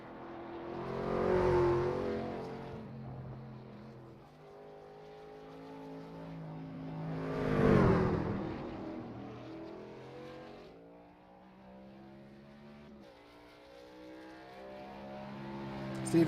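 Race truck engines in an iRacing truck series race on the Roval roar steadily, with two loud revving passes sweeping up and fading away between long stretches of droning engine noise.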